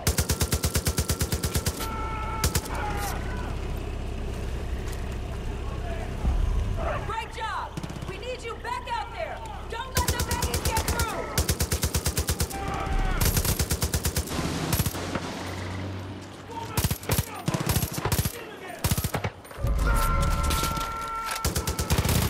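Gunfire in Far Cry 5: rapid bursts of automatic fire and single shots crack out in loud clusters, separated by quieter stretches, while people talk over the action.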